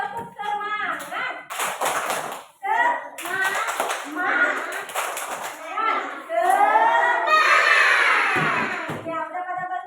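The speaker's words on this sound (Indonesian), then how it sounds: "Ayo kita tepuk semangat dulu." Schoolchildren in a classroom performing the tepuk semangat rhythmic clap, bursts of patterned clapping alternating with chanted children's voices, close and lively.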